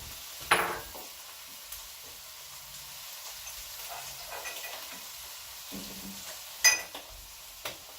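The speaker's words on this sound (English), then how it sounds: "And so now, while I'm steaming my cabbage," Cabbage steaming in a pan with a little water gives a quiet, steady hiss, broken by a few sharp clinks and scrapes of a utensil against the pan.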